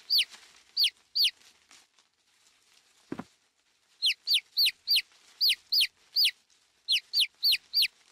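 A small chick with an injured foot peeps repeatedly in high, sharp chirps that come in quick clusters, with a quiet gap and a soft low thump in between.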